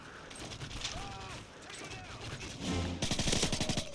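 Gunfire from Modern Warfare 3 Search and Destroy on Xbox, a rattle of rapid shots that grows louder near the end, with game effects and quieter background sounds running underneath.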